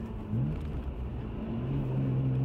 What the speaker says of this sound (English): you really can't beat, you know, a boosted turbo like that